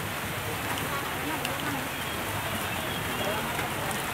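Rain falls on a traditional village market in Indonesia, a dense, steady hiss of drops on surfaces that stays close and continuous throughout, with faint crowd sounds beneath.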